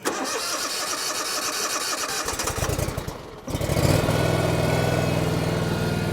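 An engine on a 2024 Super 104 cranks briefly, catches and settles into a steady loud idle, recorded up close with no talk.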